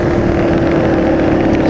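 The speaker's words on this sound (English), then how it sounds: "it's a two-stroke 400 Polaris and it's got four-wheel drive" Two-stroke Polaris 400 four-wheel-drive quad engine running steadily and close, a constant buzzing drone with a strong tonal hum and some wind noise, no talking.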